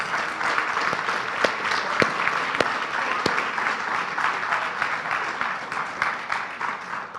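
Steady, full applause from an audience at an Oregon City government meeting, sustained and even for several seconds with a few sharper individual claps standing out.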